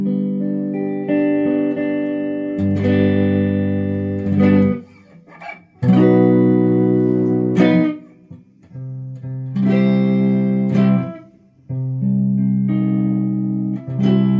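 Sustained electric guitar chords from a Fender Stratocaster ring out through a tube amp, held and repeated in several long phrases with brief gaps, warm and slightly distorted.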